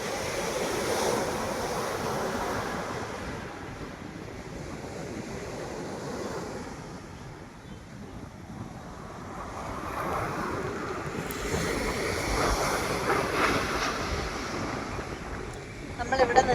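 Sea waves washing up onto a beach, a continuous rolling surge that swells and recedes, heard outdoors with wind buffeting the microphone.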